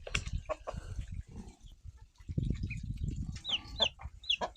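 Chickens cluck and chirp close by, including a rooster, with low grunting farmyard noises and several sharp high peeps from chicks toward the end.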